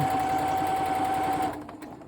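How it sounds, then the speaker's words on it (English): Sewing machine stitching a quilt sandwich in a straight line, a loud continuous close motor whir that runs steadily and then stops abruptly, leaving faint handling sounds. "So I'm picking it up, moving it, stitching in a straight line"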